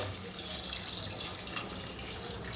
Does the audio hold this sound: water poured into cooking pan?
yes